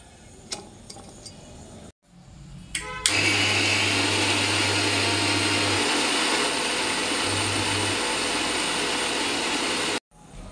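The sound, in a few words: blender grinding soaked masoor and moong dal into paste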